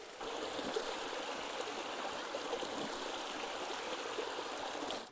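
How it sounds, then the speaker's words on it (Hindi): A mountain stream in the Himalayan hills flows steadily, a close, continuous rushing hiss of water with no voices, cutting off abruptly at the end. "और यहाँ पे पानी भी आ रहा है।"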